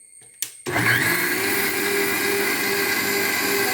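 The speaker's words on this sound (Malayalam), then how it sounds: "മിക്സി ആയതുകൊണ്ടങ്ങ് അരയും" Green chillies and coconut with water are ground in an electric mixer grinder, which roars into a loud, steady high whine after a brief click and short burst, close up and with no talk.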